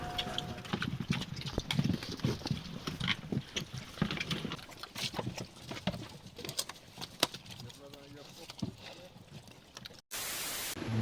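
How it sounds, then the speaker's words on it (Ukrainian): An ordinary pig on Fiji that feeds on coconuts grunts and snuffles outdoors in a continuous, fairly faint stream, with bird calls and other ambient noise around it. "Ось так живе звичайна фіджійська свиня"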